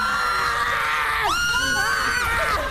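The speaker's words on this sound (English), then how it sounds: "There's a lot of screaming going on." A group of Big Brother housemates screams loudly in excitement on entering the house's bedroom, high overlapping shrieks and whoops running continuously and close.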